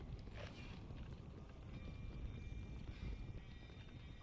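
Horse hooves clip-clop at a steady trot in Red Dead Redemption: Undead Nightmare, a continuous rhythmic clatter over wind and game ambience, with a faint whinny.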